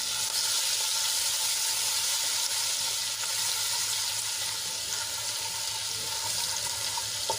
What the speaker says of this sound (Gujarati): અને તેલમાં આપણે એને સરસ રીતે સાંતળી લઈશું